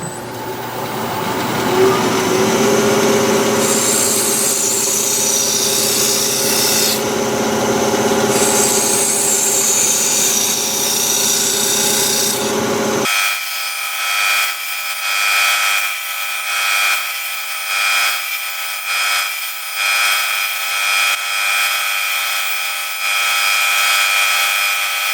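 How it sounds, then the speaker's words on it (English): Wood lathe spinning at about 1800 RPM while a wooden lid is hollowed out, a loud steady whirring hum with gritty cutting noise for the first half, then the tool lifts off and a lighter motor drone with faint tapping remains. "Now I just want to hollow out the lid a little bit, still at about 1800 RPM."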